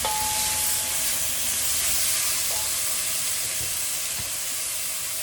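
Eggplant and tofu fry in a pan, giving a loud, even sizzle and hiss throughout, with faint scrapes of stirring underneath.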